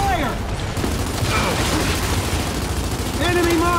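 Video game gunfire crackles in a dense, continuous barrage under voices and game chatter, loud and busy from start to finish.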